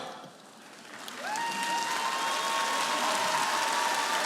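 Audience applause at a Liga Smikhu comedy show for birthday guest Katya, a dense sustained clapping that swells loudly after a quieter start, with a faint whistle or tone riding above it and no clear talk.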